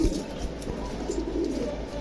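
Pigeons coo softly and continuously, their low throaty calls repeating close by with no talking.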